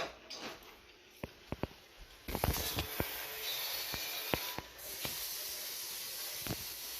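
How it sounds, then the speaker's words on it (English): A burger sizzling in a hot pan gives a steady soft hiss, with scattered sharp pops and crackles and a louder surge of sizzle partway through, heard close and fairly quiet. "Sizzling hot."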